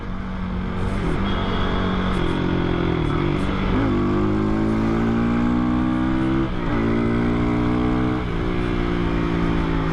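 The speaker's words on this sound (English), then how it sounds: "This is also a very fun motorcycle to ride" A Hero XPulse 200 motorcycle engine drones steadily while riding, pitch rising and falling through gear changes, loud and close with wind rush, no voices.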